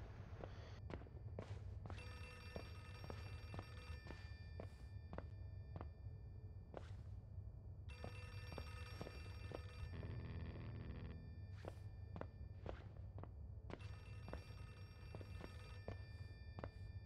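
Telephone bell ringing in repeated bursts in the horror video game Outlast 2, steady rings separated by short pauses over a dense, continuous game ambience with faint clicks.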